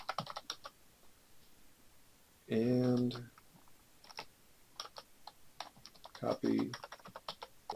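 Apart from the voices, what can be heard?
typing on a computer keyboard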